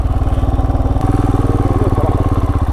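A Royal Enfield Himalayan 411 motorcycle idles loud and close on a village track, its single-cylinder engine thumping in a fast even beat that shifts to a deeper, heavier pulse partway through.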